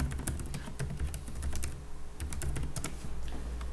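A password is typed on a computer keyboard in quick, uneven bursts of close, crisp key clicks, fairly quiet, with no talking.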